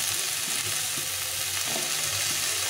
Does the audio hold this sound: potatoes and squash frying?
yes